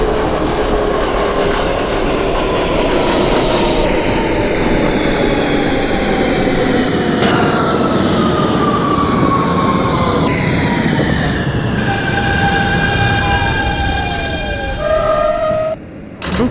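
An R160 Siemens subway train on the Brooklyn-bound M line in the OpenBVE simulator hums and rumbles steadily as it runs, with shifting motor tones and a rising whine near the end.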